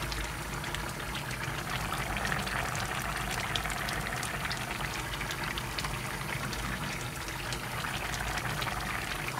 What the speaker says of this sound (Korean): 이제 그냥 불 세게 해서 졸여버릴게요.